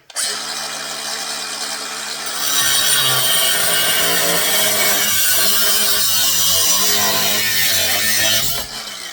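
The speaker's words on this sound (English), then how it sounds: "We're going to take a little angle grinder here." A small angle grinder cuts through square steel stock, a loud, steady high whine and grinding rasp that starts after a quieter spin-up and holds for several seconds before easing off near the end.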